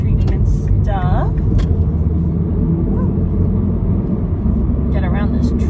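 A car drives along a road past a truck, with a steady loud engine and road rumble throughout and a person talking over it.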